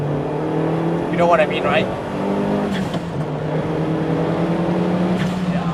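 A turbocharged Toyota Starlet Glanza V engine revs and pulls hard through the gears under steady cabin drone, with someone talking briefly over it.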